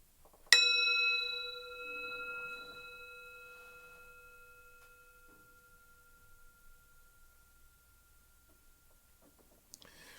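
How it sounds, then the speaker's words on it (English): One struck bell rings out clearly, its bright tone decaying slowly over several seconds in a quiet room, with a faint second tap near the end. "I'm going to ring the bell"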